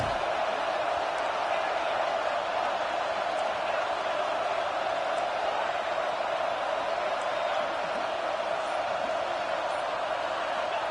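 A football stadium crowd roars in a steady, loud wash of cheering during a big third down in the red zone, sustained from start to finish.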